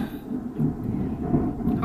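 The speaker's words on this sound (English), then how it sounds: "Hopefully you can still hear me talking over that thunder." Thunder during an English summer: a low, sustained rumble that rolls on without pause, moderately loud and somewhat distant, with no talking over it.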